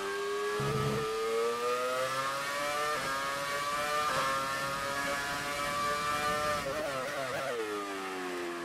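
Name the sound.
F1 car engine revving, from the video game F1 2018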